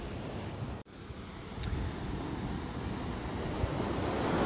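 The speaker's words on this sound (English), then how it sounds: "here it comes. Oh, little tiny waves." Small ocean waves wash onto the shore in Cabo, a continuous soft roar and hiss with gentle swells, mixed with some wind noise and no voices.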